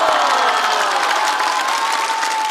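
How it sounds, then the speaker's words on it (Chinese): A TV studio audience claps and cheers loudly for a guest on a Chinese variety show, with dense, sustained applause filling the whole stretch close to the microphone. "再次掌声送给唐国强老师"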